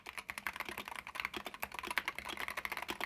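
Fast typing on a stock Wooting 60HE mechanical keyboard, a dense stream of crisp, clacky keystrokes heard close and fairly quiet, with no voices.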